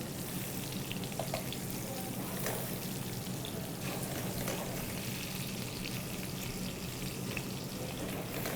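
Mushrooms brown in a pan over a high flame, giving a quiet, steady sizzle with light spitting and crackles throughout.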